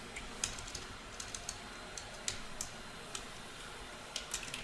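Quiet computer keyboard typing during C# programming, a sparse run of soft key clicks with brief pauses, close and faint over low room hiss.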